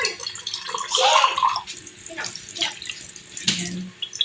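Water is poured from a tap into a cooking pot while making fish paksiw, coming in short splashing bursts with pauses between them, up close and free of talk.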